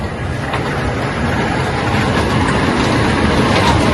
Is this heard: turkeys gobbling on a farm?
no